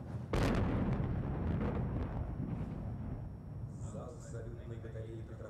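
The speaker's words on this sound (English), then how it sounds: "Petropavlovsk forces artillery is now firing blank shots to sign the commands of the Navy Day Parade." Russian Navy artillery of the Petropavlovsk forces fires a blank shot at a Navy Day Parade: one loud, close boom opens the clip and a long rumbling roar follows and fades slowly, with faint outdoor noise after it.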